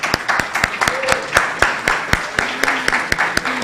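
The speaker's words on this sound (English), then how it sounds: "so a round of applause for all the teams that have presented today" Scattered applause from an audience at a team presentation event, sparse individual claps ringing out unevenly at close range, with faint voices in the background.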